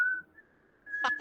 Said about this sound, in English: like his sinister musical whistle